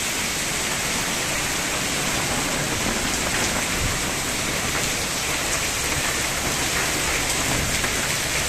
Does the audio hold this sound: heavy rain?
yes